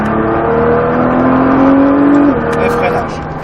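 A Nissan GT-R with 550 hp accelerates hard to overtake on the Bresse race circuit, its engine note climbing steadily and loud, then dropping sharply at a shift near the end, with an instructor speaking over it.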